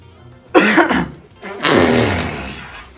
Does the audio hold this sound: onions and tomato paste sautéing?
no